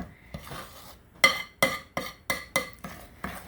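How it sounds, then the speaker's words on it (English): Pecan pie filling of corn syrup, sugar, eggs, butter and vanilla being stirred in a bowl, giving a run of about eight sharp, evenly spaced clinks and scrapes against the bowl, close and fairly loud. "I think I'm going to go ahead and stir this up"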